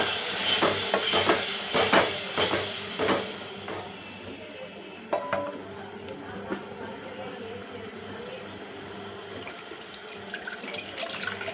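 Ground tomato paste with green chili poured into a hot pan: a wet, splashy sizzle with clattering stirs at first that settles into a softer steady frying hiss, close up, with no talk.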